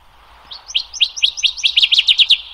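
A recorded warbler call, a rising series of quick, high chirps that grows louder and faster over about two seconds and sounds clear and close.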